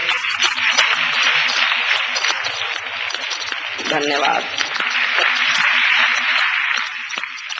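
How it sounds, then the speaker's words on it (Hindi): An audience at a Hindi poetry recital applauds a poet before a Kargil war poem, a dense, continuous clapping that lasts the whole stretch while a voice briefly speaks midway. "जोरदार तालियां बजाइए फिर"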